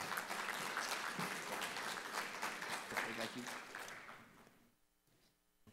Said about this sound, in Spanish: Un muy cálido aplauso